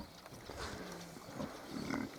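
Hungarian Mangalica sow feeding her week-old piglets, with soft grunts and low oinking sounds rising and falling over a steady farmyard background throughout.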